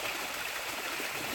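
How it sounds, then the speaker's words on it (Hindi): Small waterfall on a stream near the Narmada river, a steady soft broadband rush of falling water heard alone without voices, even and continuous throughout. "छोटा सा झरना है"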